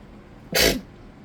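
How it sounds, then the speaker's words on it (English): A single abrupt, breathy sneeze bursts out close by, over a faint background hum. "That sneeze came through hard."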